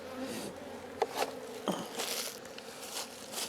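Honeybees buzz from an opened top box of a hive, a close, steady hum with a few sharper passes near the listener.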